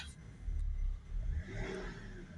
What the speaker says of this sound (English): So we'll just give it a couple of revs